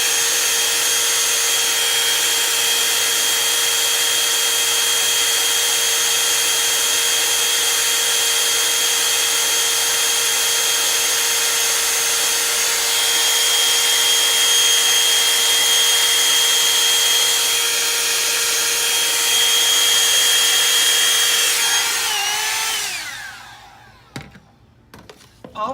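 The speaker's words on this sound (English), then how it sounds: "we're going to hit it with a blow dryer" A blow dryer on a cool setting runs steadily with a constant whirring hum and airy hiss, then cuts off near the end, leaving a few quiet clicks.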